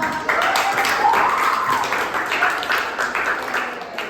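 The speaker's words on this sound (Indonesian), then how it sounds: "kelompok yang nanya Ratu, tepuk tangan dulu." Classroom students clap together for a presenting group, a moderately loud, somewhat uneven burst of hands that gradually thins, with a voice briefly audible over it.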